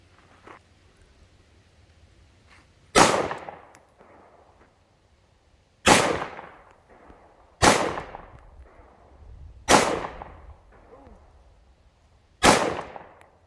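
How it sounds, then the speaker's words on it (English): Six sharp gunshots ring out one at a time during outdoor target shooting, each a loud, close crack trailing into a brief echo, spaced a couple of seconds apart over a quiet outdoor background. "She's gonna try Jenny's gun now."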